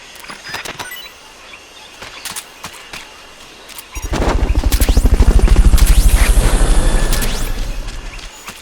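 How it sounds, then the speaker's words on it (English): Rotor thumping of a Fulton recovery helicopter in Metal Gear Solid Peace Walker rises abruptly and stays loud and steady for several seconds, after scattered sharp game sound effects, then slowly fades. "Fulton recovery helicopter is complete."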